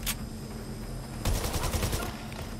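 Rapid gunfire from a real lethal gun in Watch Dogs: Legion, a burst of about eight quick shots after an opening crack, loud and close over a steady game ambience.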